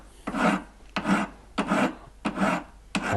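A hand file rasps across a wax signet ring model in five even, steady strokes with short pauses between them, close and clear with no talk.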